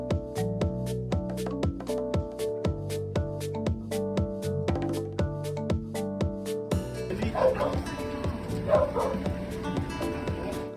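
A dog at a reunion with its owner gives a long run of rapid, evenly spaced yips and barks, then shifts into excited whimpering and whining, close and clear with little else around.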